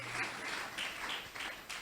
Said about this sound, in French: Acclamons pour le Saint-Esprit de Dieu.